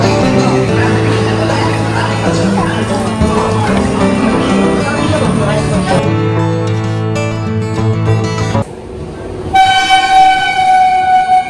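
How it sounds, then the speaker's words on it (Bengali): Dhuli Express (12821) running on the rails from Santragachi toward Puri, a steady loud rumble of the train in motion with a horn-like tone rising near the end. "এবার আমাদের ট্রেন আবার পুরীর উদ্দেশ্যে রওনা দিল"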